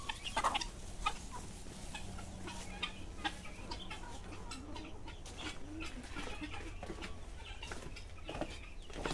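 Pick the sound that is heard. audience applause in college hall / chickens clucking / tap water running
chickens clucking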